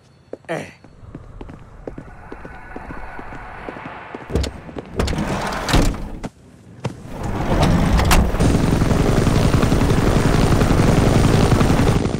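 Bursts of loud clatter and impacts give way to a heavy, steady rotor roar that builds to fill the last few seconds, close and loud.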